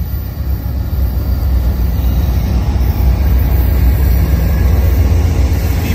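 An Amtrak Coast Starlight passenger train led by two P42DC diesel locomotives rumbles past in Oakland, California, a loud, steady roar that fills the whole stretch without pause.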